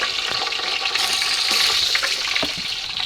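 Cloves and whole spices crackle in hot oil in a pan for biryani, giving a steady, busy hiss of frying with scattered pops and clicks throughout, close and fairly loud, with no voices.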